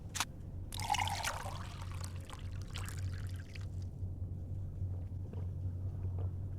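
Water poured in the video game Indigo Prophecy, a brief splashing pour near the start that trails into a soft trickle, with a few faint clinks over a low steady hum and no talk.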